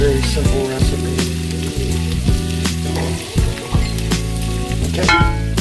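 Minced garlic sizzles steadily in a hot pan, a loud continuous frying hiss with occasional scrapes of a wooden spoon stirring it, no voices.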